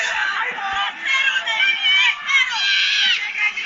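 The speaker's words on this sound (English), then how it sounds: "As you can hear this massive crowd in Tokyo trying to rally support" A massive crowd in a Tokyo boxing arena cheers and roars continuously, loud swelling shouts and whoops rising and falling.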